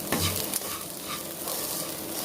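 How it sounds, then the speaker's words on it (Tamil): Cooked rice being mixed with ground pepper powder in a pan for temple-style pepper rice, a continuous close scraping and soft sizzling stir with no voices. "நம்ம வெடித்த சாதம் வந்து சேர்த்துட்டு நம்ம வந்து கலந்து விட்டுக்கலாம்"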